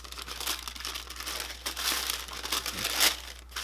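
Elephant print paper pulled from an Air Jordan 3 White Cement Reimagined sneaker box crinkles and rustles up close, with a steady run of dense crackles and crumples and no talking.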